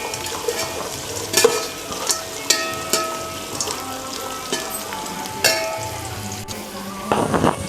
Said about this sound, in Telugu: ఇంకా ఒక్క నిమిషం వేయించేసి దీన్ని, ఎందుకంటే జీడిపప్పు తొందరగా అయిపోతుంది కదా